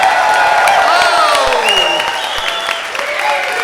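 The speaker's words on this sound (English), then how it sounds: "Give him a big round of applause." A live comedy podcast audience applauds and cheers Pete Holmes onstage: dense, loud clapping with whoops and shouting voices, fading slightly toward the end.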